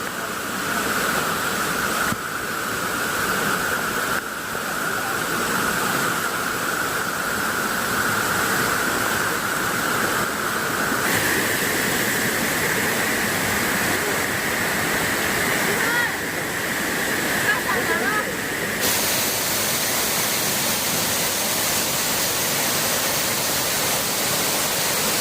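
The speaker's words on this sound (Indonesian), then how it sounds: "Jadi di sini tuh banyak tingkatan yang ada di air terjun Gemleng." Rushing water of the multi-tiered Gemleng waterfall, a steady broadband roar that stays dense and continuous throughout, close and loud, with no voices standing out over the torrent.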